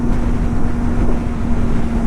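Kawasaki ZX-4R four-cylinder motorcycle engine at a steady high pitch while riding on the road, loud and close with rushing wind noise over it for a couple of seconds.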